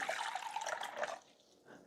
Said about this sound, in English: I dumped part of the water in here.